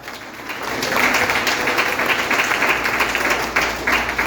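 Church congregation applauding at a family service, a dense, sustained wash of many hands clapping that swells after a softer start and stays steady throughout, with no talking over it.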